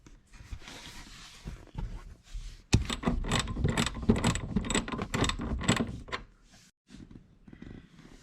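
Ratchet wrench working on the seat bolts inside a Subaru WRX cabin: a dense run of quick clicking strokes, fairly close, with a short pause before a final brief burst.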